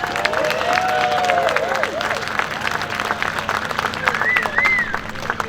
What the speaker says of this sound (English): give a big, rousing applause to Captain Jessica O'Brien